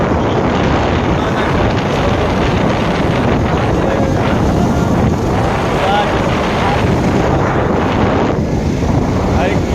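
Wind roars over the microphone during a motorbike ride through Varanasi, a loud, continuous buffeting rush that masks everything else.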